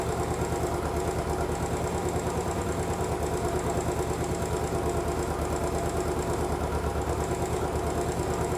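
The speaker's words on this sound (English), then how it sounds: "when I flick that on, you should hear a tone in the engine change" A Royal Enfield Bullet 500 EFI motorcycle engine, fitted with a Pro Racing fuel module and DNA air filter, idles steadily with a rapid, even thump, its tone shifting slightly partway through as the module kicks in.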